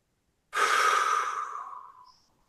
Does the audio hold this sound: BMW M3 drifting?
no